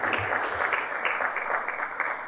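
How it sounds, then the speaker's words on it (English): Audience applause at a closing ceremony, a steady even wash of many hands clapping together, sustained and moderately distant, with no voices on top. "Please give him a big round of applause."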